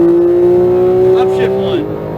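A Porsche 911 GT3 991.2 accelerating at full power on a racetrack, a loud sustained engine note holding steady pitch from inside the car, then briefly dropping at the end.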